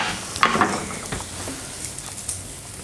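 Shiitake, oyster and girolle mushrooms dropped into hot butter in a pan, giving a steady close sizzle with a few clattering stirs and utensil knocks early on, no voices.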